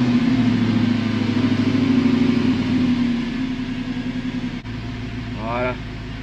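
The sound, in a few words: car engine starting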